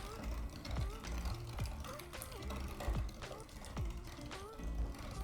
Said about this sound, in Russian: Все, загружаем в мясорубку и поехали крутить.